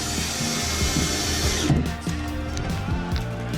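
A handheld power drill runs steadily and loud at close range, its motor whine shifting pitch slightly as the load changes, while work goes on around a vehicle fitted with an awning on an Australian touring rig.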